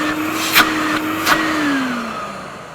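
A modified Hoover Aquamaster vacuum cleaner running at home without its cage, a steady close motor whine with a tone that slowly drops, plus two short bumps of sound along the way.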